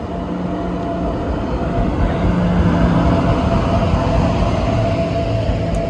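The Palnadu Express sits at a station platform, producing a loud, steady low rumble with a faint tonal hum throughout, like an idling train heard up close.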